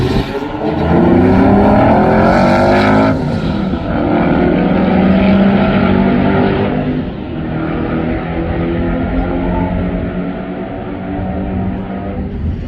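A 700-horsepower go-kart launches hard down a drag strip, its engine roaring loud and close with rising harmonics through each gear before the note settles into a sustained high-revving drone.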